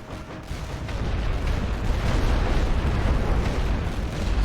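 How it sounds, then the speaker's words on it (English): Heavy artillery barrage in The Great War: Western Front video game, a dense rumbling roar of distant explosions rising after a quieter start and holding at a loud, continuous level with no talking. "I'm gonna drop a heavy barrage on that crew"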